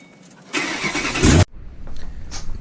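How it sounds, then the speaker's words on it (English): A cold start of a cammed 2006 Mustang GT with open longtube headers: a loud cranking burst as the V8 catches, a sharp cutoff, then a lumpy, choppy idle close by. "This is a cold startup on a cammed 2006 Mustang GT with open Longtube headers."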